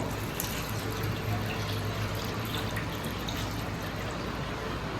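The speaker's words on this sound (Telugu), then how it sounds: "ఇది 3 గ్లాస్ వాటర్ వేసుకుంటున్నానండి" Water poured from a glass into a pressure cooker holding mutton trotters for Hyderabadi paya, a steady continuous splashing and trickling fill that runs the whole time at moderate loudness with no voices.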